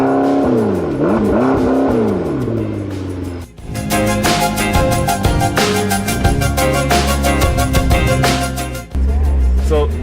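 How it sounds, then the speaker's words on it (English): A loud 2015 McLaren 650S 3.8-liter twin-turbo V8 engine revs repeatedly, pitch climbing and dropping, then roars into a hard acceleration with rapid gear-shift dips. "Oh, that's V8, right? V8. It sounds phenomenal."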